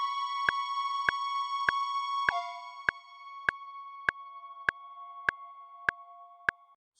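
Synthesized groove from a 17 against 19 polymeter, heard as a 19-beat phrase: crisp clicks land about every 0.6 seconds over sustained, pure electronic tones that shift pitch partway through, then fade out alone.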